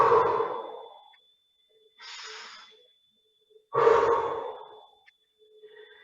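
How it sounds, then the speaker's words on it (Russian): Slow deep breathing during a morning belly-breathing exercise, with long loud exhales alternating with shorter hissing inhales, close and alone in a quiet room. "Вдох, выдох. Вдох, выдох."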